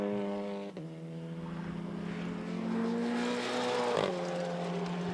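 Adam Blair's TT race car laps the Snetterton circuit with a loud, sustained engine note. The pitch holds steady, drops sharply at each gear change and climbs again, with no voices over it.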